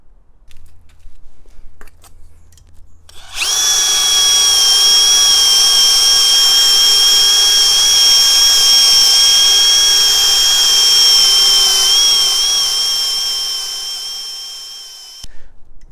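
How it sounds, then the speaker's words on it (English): A wire wheel spins up suddenly and whines loudly and steadily for about twelve seconds cleaning a metal bench vise, then cuts off, preceded and followed by quieter clatter. "I'm going to use some files and a wire wheel to clean things up a bit."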